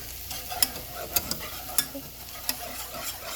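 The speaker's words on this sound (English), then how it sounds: "you have to whisk it really good to make sure that you don't have any lumps as it's cooking" A whisk beating gravy made from pan drippings over a medium flame, soft bubbling sizzle beneath with distinct metallic clicks of the whisk against the pan at irregular intervals, fairly quiet and close.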